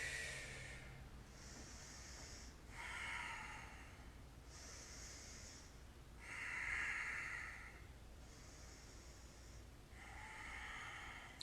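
Slow, steady breathing during a seated chair yoga pose, soft airy inhales and exhales swelling and fading in a regular rhythm of about four breaths, quiet and close with no talking.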